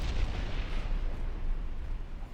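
Heavy booming naval gunfire and explosions from torpedo and shell hits in the warship strategy game Ultimate Admiral Dreadnoughts, a dense rumbling barrage filling the short clip with no talking.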